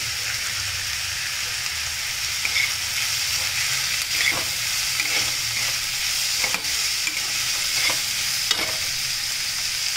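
Carrot and capsicum being stir-fried in a pan for rice paper veg spring rolls, a steady loud sizzle with occasional soft scraping stirs and clicks of a spatula, with no talking.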